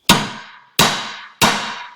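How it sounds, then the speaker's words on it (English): A big hammer strikes the steering knuckle of a Chevy or GMC truck three times at an even pace, each blow a loud, sharp metallic impact with a ringing decay, close up and with no talking. "we want to strike the knuckle with a big hammer a few times, and that'll shock it loose"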